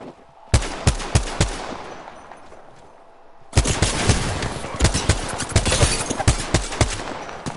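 Loud gunfire in a shooter video game: a burst of separate shots, a short lull, then sustained rapid automatic fire packed with sharp cracks until the end.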